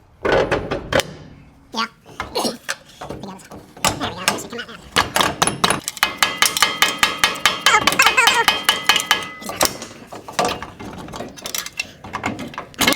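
A rubber dead blow hammer strikes parts on a brand-new 2025 Ford F-150 during a lowering kit install, a dense run of quick muffled knocks and clanks with metallic rattling, people talking intermittently nearby.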